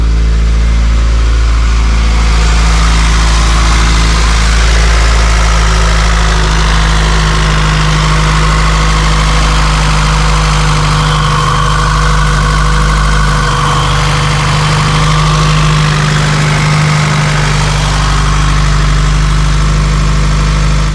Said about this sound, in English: The Borla exhaust system sounds really good.